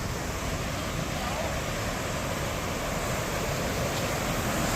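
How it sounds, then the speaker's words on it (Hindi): A waterfall at Chauras in Himachal roars as a loud, unbroken wash of rushing water, close and steady, with no talk. "ये झरना है"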